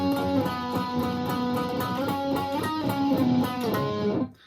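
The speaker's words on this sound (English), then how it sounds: "And then there's a lead that's done in octaves." An electric guitar plays a steady lead line in octaves from a song, with doubled high notes, sustained and bright, continuing evenly before ringing out and cutting off at the end.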